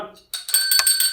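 A quiz-game bell rings out in bright, metallic strikes, several quick rings layered closely together after a short murmur of voices.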